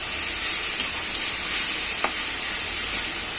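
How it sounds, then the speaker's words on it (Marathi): Fenugreek leaves, stems removed, sauté in a hot pan with a steady, even sizzle and hiss, close and loud, with one faint stir partway through and no voices. "ते 1-2 मिनिटं परतून घेऊया"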